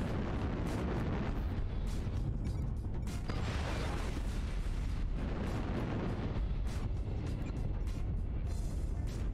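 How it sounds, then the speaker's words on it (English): A mech in MechWarrior takes a barrage of missile impacts, a dense, continuous roar of overlapping explosions and mechanical rumble that stays loud throughout. "This guy's just getting peppered with missiles here."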